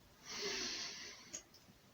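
A single slow, airy in-breath drawn through the nose during the closing breathing exercise of a gentle workout, close and soft, lasting about a second and followed by quiet.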